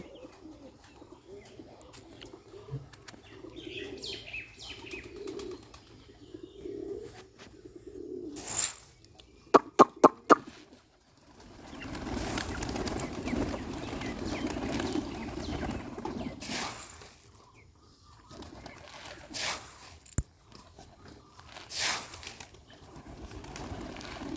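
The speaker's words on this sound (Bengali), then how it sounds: "কবুতরগুলো অনেক ক্ষুধার্ত, ওরারই খাবারের জন্য অনেক চেষ্টা করতেছে" Hungry pigeons, a Bombai and Rajshahi Giribaz flock, coo softly and intermittently in a loft at feeding time, with faint wing flaps and a few sharp clicks and knocks partway through.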